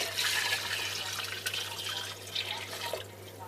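Stock is poured into a lamb tagine with apricots, giving a soft, continuous splashing trickle of liquid over a low steady hum, with a few small drips and clinks at the end.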